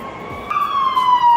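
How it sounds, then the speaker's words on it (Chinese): Police car siren on a New York street, a steady wailing tone that sweeps slowly downward, heard at moderate distance over traffic noise. "看到没有？警车。"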